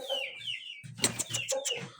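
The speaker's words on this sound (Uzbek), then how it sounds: "Mana bu xo'roz." A rooster that has been blind in both eyes since birth gives a series of throaty clucks and short calls nearby, in uneven bursts with brief pauses between them.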